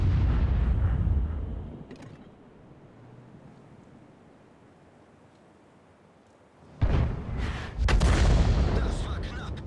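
A tank cannon fires in a video game, a deep booming blast and rumble followed by quieter ambience, then more heavy explosive bangs near the end, with a voice talking over it.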